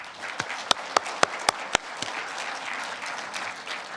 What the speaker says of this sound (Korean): 다 함께 큰 박수로